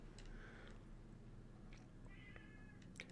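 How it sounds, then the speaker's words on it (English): A house cat yowls and screeches at a door in a few short cries, moderately near over a steady low hum of background noise. "the cat is screeching at the door"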